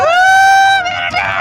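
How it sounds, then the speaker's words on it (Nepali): A group of friends on an outing to Namjey lets out a loud, sustained rising hoot from one strong voice, which breaks into mixed shouting and cheering from several people close by. "एकचोटि हुटिङ हानिदिनु पर्यो सबैजनाले"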